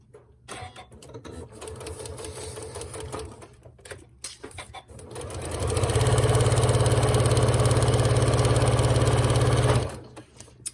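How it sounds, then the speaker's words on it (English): A sewing machine stitches a paper-pieced triangle quilt block, starting with short uneven bursts, then running loud and steady at full speed for several seconds before stopping. "So you're going to start sewing on the solid line."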